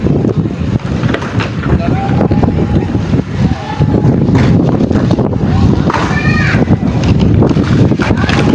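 Steady wind roars across the microphone, buffeting it continuously, with faint voices and outdoor activity underneath.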